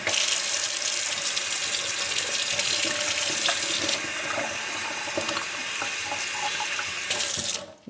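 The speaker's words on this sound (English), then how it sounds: "And put a little bit of cold water on them." Cold tap water pours steadily onto eggs and ice in a kitchen sink setting, a loud continuous rushing splash with faint clinks, then shuts off at the end.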